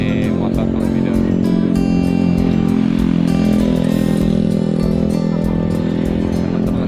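A motorcycle engine runs steadily and loudly throughout, a continuous close drone with rattling clatter, while a voice talks over it.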